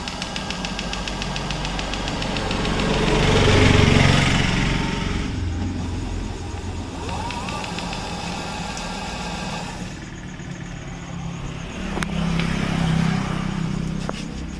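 Electric scooter running after a wiring repair, giving a continuous mechanical whir with rattling and tonal hum that swells around four seconds and again near the end.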